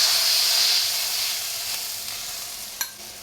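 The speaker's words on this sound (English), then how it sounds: "So just turn on the wok. Medium heat is all you need." A gas burner under a wok lights at medium heat with a broad rushing hiss that starts strong and eases off slightly, followed by a brief sharp click near the end. No one speaks.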